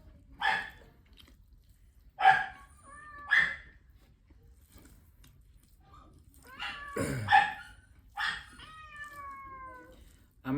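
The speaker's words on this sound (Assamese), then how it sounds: "মেকুৰী কুকুৰ মুঠতে সমানে কান্দিছে।" A cat and a dog crying together indoors, several separate plaintive meows and whines with gliding pitch, close and fairly loud, spaced by quiet pauses, with one overlapping burst of cries near the middle.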